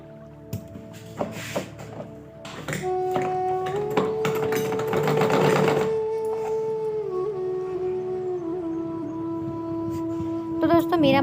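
Sewing machine running a foot-width seam to fold a strip on a pillow cover, starting after a few clicks and humming steadily for several seconds, with a voice speaking over it.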